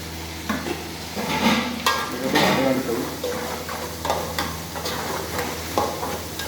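Goat tripe curry with tomato gets stirred in a pan, a spoon scraping and clinking against the metal in irregular strokes over a steady frying sizzle.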